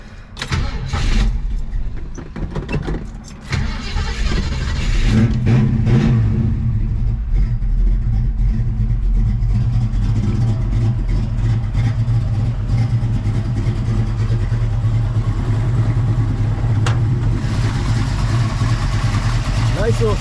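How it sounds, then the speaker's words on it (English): A 1968 Ford Mustang with a 302 V8, manual brakes and no power steering, cranks briefly and catches, then revs and settles into a loud, steady, rumbling idle close by, with occasional blips of throttle. "We'll go ahead and give it a start."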